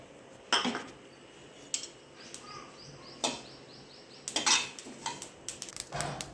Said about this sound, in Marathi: त्यानंतर आपण हे तीळ पाववाटी भाजून घेणार आहोत